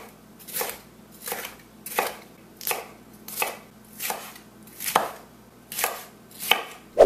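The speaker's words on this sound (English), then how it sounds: "And same with the mushrooms. We're just going to give them a good chop right down." A knife chops cremini mushrooms in about nine even, crisp strokes roughly a second apart, close and fairly quiet, with no talking.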